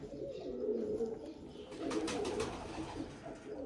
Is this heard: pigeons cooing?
yes